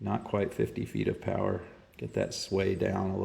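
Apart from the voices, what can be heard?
None of the usual background noises is heard.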